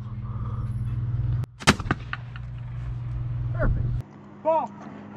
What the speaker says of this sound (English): Let's shoot some skeet.